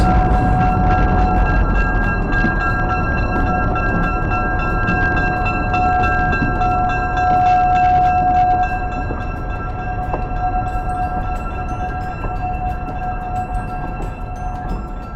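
A large train on the Kutztown branch railroad stands ready to depart, giving off a loud, steady engine rumble with a sustained tonal hum that eases slightly partway through.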